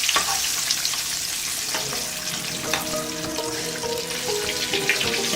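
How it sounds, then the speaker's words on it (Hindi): Potato tikki patties fry in a pan as aloo tikki cooks, giving a steady close sizzle with light crackle and occasional scraping or turning sounds throughout, no voices present. "तब तक हमें फ्राई करनी है जब तक इनका कलर ब्राउन नहीं हो जाता।"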